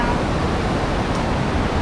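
A waterfall about 70 metres high at Tad Yeuang in Laos roars as a steady, loud, broadband rush of falling water, continuous and unbroken, with no voices over it.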